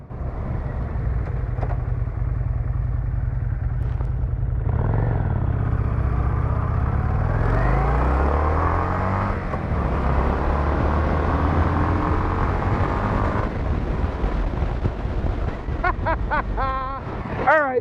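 A 2005 Kawasaki Vulcan 800 Classic motorcycle accelerates from a standstill to 30 mph, its engine note climbing in pitch through several gear changes, loud and close under steady wind rush.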